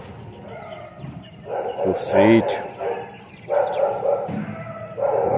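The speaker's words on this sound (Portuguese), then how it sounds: "Os cachorros estão bravos aqui." Several dogs bark angrily on a farm in bursts of loud, close barks and yips, with people talking over and between them.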